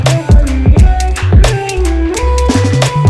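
An electronic beat played loud through an Ableton master chain with a glue compressor and limiter engaged: punchy kick and bass hits in a steady groove with tonal synth lines, dense and compressed, no talking.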